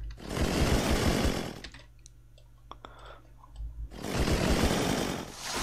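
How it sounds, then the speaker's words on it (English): A chainsaw in the video game Unturned roars loudly for nearly two seconds, cuts out to a quiet stretch with scattered clicks, then revs up again into a second long, buzzing run. "sorry if the chainsaw is loud"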